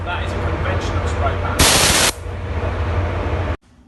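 An air-assisted Weaver paint spray gun sprays interior topcoat in a conventional spray pattern, giving a loud steady hiss of about half a second over a constant pump hum.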